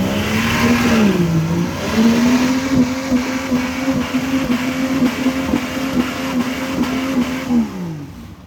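A stock off-road truck on 44-inch tires at Pike's Off-road Park revs hard as its wheels spin in deep mud, the engine droning loud and close with rising and falling pitch for several seconds.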